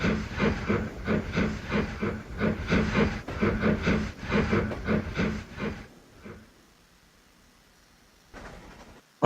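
A steam train slows under braking, with rhythmic bursts of hissing steam and clatter that fade out and stop, leaving near silence and a faint hiss at the end.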